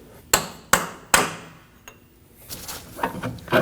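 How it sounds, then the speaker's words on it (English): Three sharp metal hammer strikes on a punch ring out in quick succession, driving a CV axle out of a Ford Edge wheel hub, followed by a lighter tap and softer clanking and scraping. "Now I'm going to use a punch and a hammer."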